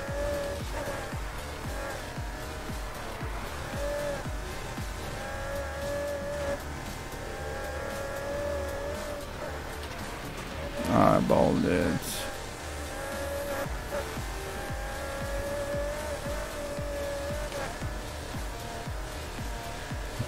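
A race car engine in a video game drones steadily as the car climbs a hill, holding a sustained tone throughout with a brief, louder surge roughly midway.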